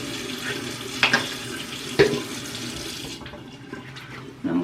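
A tap runs steadily in a sink while someone wets their face, with a couple of soft splashes and knocks, before the flow stops and the room goes quiet.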